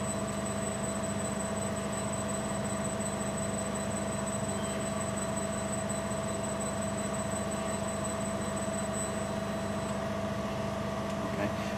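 An Epak BV9000 rectifier beveller with its wafer chuck turning at about 30 RPM gives a steady, even mechanical hum with a constant electrical tone, unchanging throughout and with no voices.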